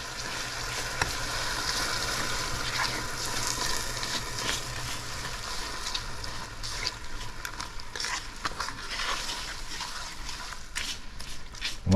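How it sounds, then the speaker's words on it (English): Evaporated milk poured into a hot pot while making Guyanese sugar cake, giving a steady, close sizzle and bubbling hiss that runs unbroken for the whole stretch with no talking. "just add our evaporated milk"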